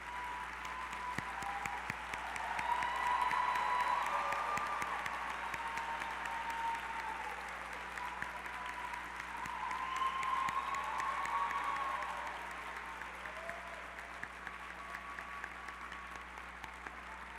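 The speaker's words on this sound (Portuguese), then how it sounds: "Queria pedir aqui que os pais dos formandos e os responsáveis ficassem de pé e que fossem aplaudidos aqui por todos nós pela sua dedicação." A graduation ceremony audience applauds the graduates' parents and guardians, a broad, sustained wash of clapping that swells and eases over several seconds, with faint cheering mixed in.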